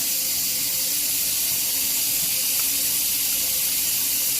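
Water from a tap runs steadily while a girl's hair is washed, a constant close hiss with no pauses and no talking.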